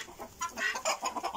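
Hens cluck softly in short bursts while drinking clean, fresh water, near and quiet, with no voices.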